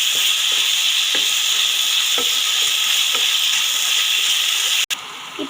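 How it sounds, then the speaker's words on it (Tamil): Tomato frying with ginger garlic paste while being stirred, a steady bright sizzle running throughout with soft scraping strokes of a spoon in the pan, close and alone with no voices. "நல்லா மிக்ஸ் பண்ணி விடுங்க."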